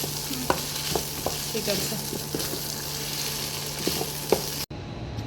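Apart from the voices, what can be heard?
fried rice being stir-fried in a pan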